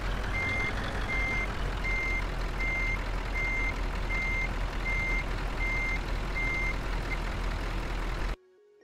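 A road train truck hauling four trailers reverses with a steady series of evenly spaced reversing beeps, about ten in a row, over a continuous low engine rumble, close and clear, then cuts off suddenly.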